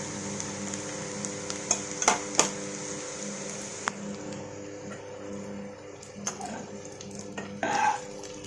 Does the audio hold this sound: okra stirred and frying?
yes